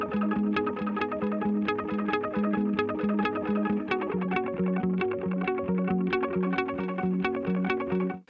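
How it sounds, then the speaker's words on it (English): Clean electric guitar picking repeating arpeggio patterns through a delay pedal in wide mode with vintage digital setting, each note echoing with rhythmic delay repeats, steady and close, ending abruptly. "I went to the delay pedal, put it on wide mode as well as vintage digital"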